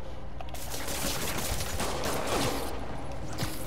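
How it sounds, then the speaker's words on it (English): Gunfire in Marvel's Spider-Man, a steady dense fusillade of rapid shots running loud throughout, with mechanical clatter mixed in. "Somebody just shoot him!"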